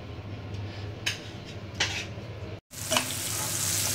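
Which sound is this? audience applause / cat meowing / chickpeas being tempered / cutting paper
chickpeas being tempered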